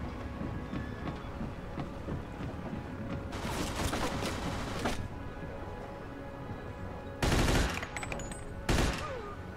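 Tommy gun firing in the video game Mafia II, distant crackling bursts amid steady background noise, with a couple of louder short volleys near the end.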